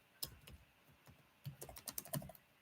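A comment is typed on a computer keyboard in quick, soft, irregular key taps, with a short pause before a denser run of keystrokes, quiet and close with no talk.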